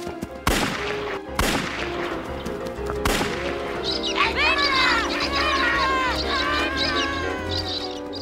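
Three sharp cartoon gunshots from a trapper's rifle crack close and loud in quick, uneven succession, then give way to a clamor of squawking birds and animal calls over background music.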